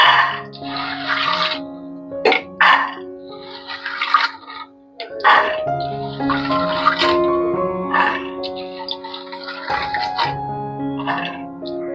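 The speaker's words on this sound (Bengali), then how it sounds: "ডালটা দেওয়ার পর জল দিয়ে দেব।" Water splashes and pours in uneven bursts into a pressure cooker holding dal, close by in a kitchen, with clattering vessel sounds between pours.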